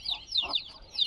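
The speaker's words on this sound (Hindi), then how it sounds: "असील मुर्गी है" Close-up Aseel chicken sounds: high, thin peeps of young chicks repeating around a single soft, low cluck in the middle.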